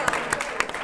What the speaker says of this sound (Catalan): Aplaudim-lo, que ho ha fet molt bé.